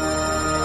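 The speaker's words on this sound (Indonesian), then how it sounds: "Ada telepon." A phone ringtone sounds for an incoming call as a steady, bright electronic tone, loud and alone, lasting under a second.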